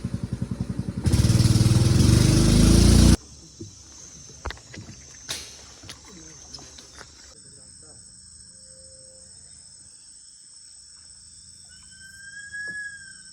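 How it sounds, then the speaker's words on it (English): A loud, chugging peke-peke boat engine in the Peruvian Amazon runs for a couple of seconds, then cuts out, leaving steady insect chirping and faint scattered sounds. "These boats are called pecky-peckies, as apparently that's what the engine sounds like"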